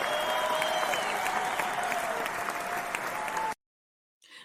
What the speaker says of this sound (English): let me just give a round of applause for the virtual studio audience.